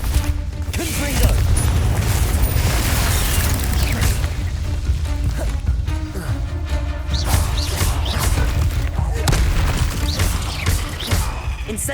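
Confringo blasting spell explosions in the video game Hogwarts Legacy, loud dense crashes and booms packed into a chaotic spell-fight din that never lets up.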